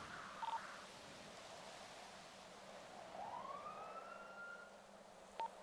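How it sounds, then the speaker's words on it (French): A faint police siren in a video game wails from a distance, its tone rising and falling over steady low background noise, with a couple of short clicks. "J'entends une sirène, c'est quoi ça?"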